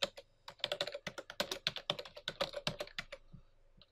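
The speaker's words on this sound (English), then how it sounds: "type in my credentials" Fingers typing login credentials on a computer keyboard: a quick, close run of crisp key clicks at an uneven rhythm, fairly quiet and alone.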